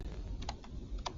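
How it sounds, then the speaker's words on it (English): Typing on a computer keyboard: a few quick, light key clicks over a low background hum, close and brief. "we're going to type this in"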